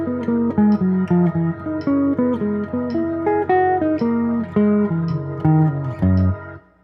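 Clean electric guitar playing a lick, a run of distinct single plucked notes at a steady pace across a wide range of pitches, close and alone, ending on a held note.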